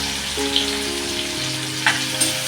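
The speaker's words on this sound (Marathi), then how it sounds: "हे चांगलं मी तेलामध्ये परतून घेणार आहे" Tomato, chili, cinnamon bark, cashews and onion sautéing in hot oil for a corn masala, giving a steady close sizzle with a few brief sharper crackles and no talking.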